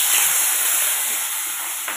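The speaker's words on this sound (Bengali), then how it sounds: "তো মাছগুলো ভাজা করছি।" Fish frying in hot oil make a loud, dense hiss that fills the whole stretch and fades slightly toward the end, with no voices over it.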